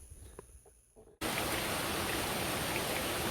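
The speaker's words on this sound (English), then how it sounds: "That rain come on me that fast." A sudden summer rain shower near a watermelon patch, a few faint knocks and rustles giving way abruptly to a loud, steady hiss of heavy rain that holds constant to the end.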